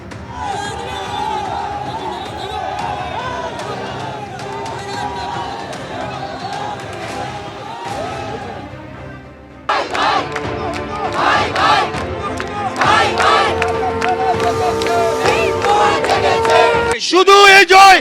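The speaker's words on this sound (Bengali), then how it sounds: "আদালত চত্বরে স্লোগান তোলেন সনাতনীরা" Crowd of Hindu supporters chanting slogans in the Alipore court compound after a bail ruling, a loud, steady mass of voices that grows fuller and more intense partway through, with shouts rising over the din.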